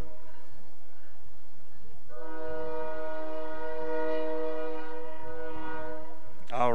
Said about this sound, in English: listen to trains